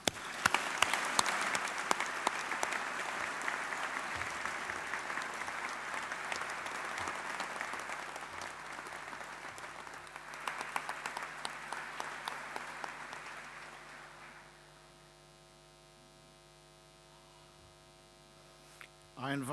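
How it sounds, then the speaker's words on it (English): An audience at a university graduation ceremony applauds lecturers and support staff, with dense, sustained clapping that carries on for about fourteen seconds before fading out and leaving a steady mains hum. "let us please all express our gratitude for the fantastic lecturers, technical and support staff with a round of applause"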